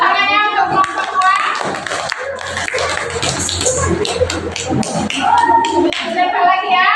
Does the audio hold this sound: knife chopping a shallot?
no